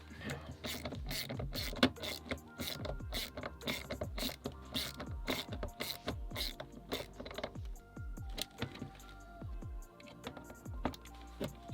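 Small screws being driven into a Tamiya TT02 RC car chassis with a hand driver, giving dense, rapid ratcheting clicks and mechanical ticks close up, continuous and busy throughout with no talking.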